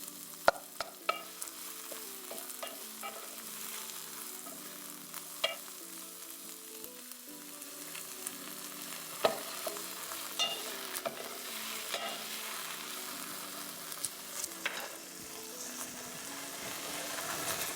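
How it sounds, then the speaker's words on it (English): Onions and celery sauteing in a pan for chow mein, with a steady close sizzle and frequent clinks and scrapes of a utensil stirring throughout, no talking. "onions and celery. We're just gonna saute that until fragrant."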